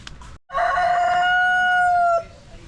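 A single loud, close rooster crow, one long drawn-out call of about two seconds that rises and holds before cutting off, alone after a brief quiet moment.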